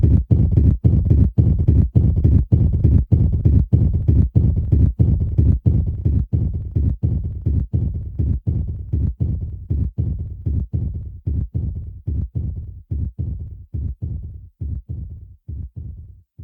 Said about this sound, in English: we're still getting that heartbeat sound, but it's going super fast at this point. The Super Nintendo heartbeats are in rapid succession,